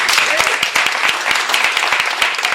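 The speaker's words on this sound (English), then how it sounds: "Let's please give him a round of applause." An audience at a bookstore author reading claps steadily for a memoirist after his talk, a dense round of applause with some louder individual claps near the front, a voice briefly audible over it.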